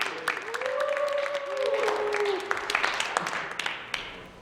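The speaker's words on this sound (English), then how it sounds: "Can we get a round of applause for Marty for coming back?" A round of applause from people at a group meeting, with dense clapping filling the whole stretch at a steady, moderate loudness and a few scattered sharper claps near the end.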